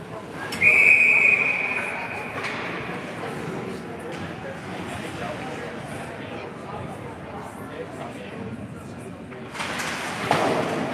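A referee's whistle blows once, sharp and bright, at an ice hockey game, sounding over arena crowd noise and a play-by-play commentator who keeps talking through the clip.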